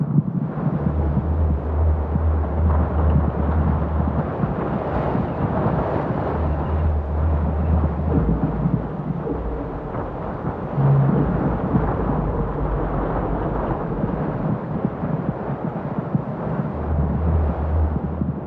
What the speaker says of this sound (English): The rushing air moves past you without pushing you around